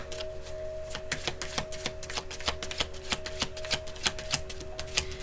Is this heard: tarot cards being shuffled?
yes